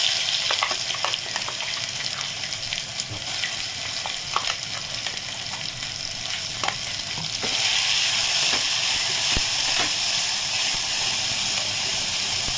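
Steady, loud sizzling of a ground coconut and Byadgi chilli paste frying in hot oil, with occasional scraping stirs, growing fuller and hissier partway through.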